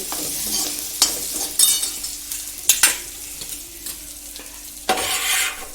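Ginger garlic paste roasts in hot oil with cumin seeds, sizzling softly while a spoon scrapes and stirs it in several sharp, irregular strokes close by.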